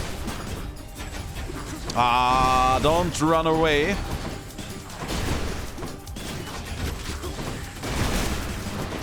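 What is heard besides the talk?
explosions in the video game Hades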